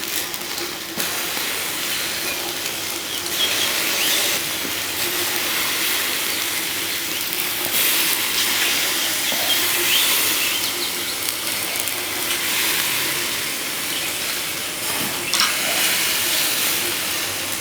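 Steaks sizzling on a grill just after being flipped, a loud, steady broadband hiss and crackle that runs unbroken, close up, with small pops and shifts in intensity.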